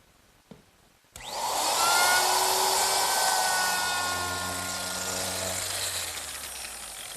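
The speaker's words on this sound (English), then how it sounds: "And I'll just use my router." A wood router rounding over tenon ends for a Mission-style sofa starts up abruptly and runs at a loud, steady high-pitched whine, its tone shifting slightly as it cuts.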